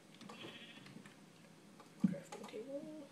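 Sheep bleat in Minecraft, a few short wavering bleats against a quiet background with faint ticking, the loudest cry near the end.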